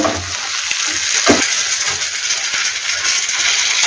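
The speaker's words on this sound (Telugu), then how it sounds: "ఇప్పుడు కారం వేసేస్తున్నాం ఈ కారంతో పాటు మళ్ళీ వేగాలి" Brinjal and garlic curry frying in a pan with chili powder, giving a steady close sizzle with light stirring scrapes and a couple of soft spoon taps, no talking.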